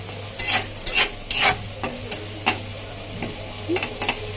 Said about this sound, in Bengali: এখন পেঁয়াজগুলি ভেজে নিব, হালকা ব্রাউন করে পেঁয়াজগুলি ভেজে নিব।